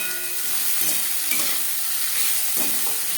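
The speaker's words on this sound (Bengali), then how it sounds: "দু তিন মিনিট আলু ভেজে নেওয়ার পর দিয়ে দেবো স্বাদ মতো লবণ আর লাগছে খুবই সামান্য পরিমাণে হলুদের গুঁড়ো" Potatoes sizzle steadily in oil as they are stirred in a pan for a Bengali egg-and-potato dish. A constant close frying hiss is broken by scraping stir strokes, with no voices.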